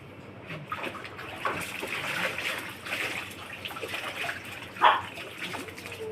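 Water splashes and trickles as a small dog's bath water is changed during shower time, with uneven sloshing bursts and one sharp louder splash near the end.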